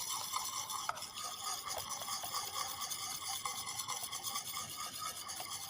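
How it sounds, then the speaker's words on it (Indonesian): Lemper dough mixture, a sticky rice-based batter for the Indonesian snack, being stirred in a bowl, giving a steady soft scraping and rubbing texture with a few faint knocks, close and continuous with no talk. "Ya, kita aduk dulu."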